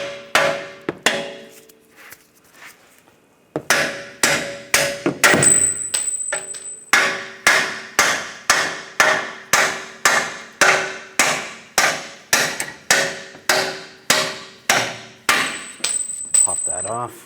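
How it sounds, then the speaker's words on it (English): Steel hammer blows ring out against wheel studs being tapped free, close and loud, a few scattered strikes and then a long, steady series of evenly spaced metallic hits with ringing overtones. "Taking a hammer, we can tap these out."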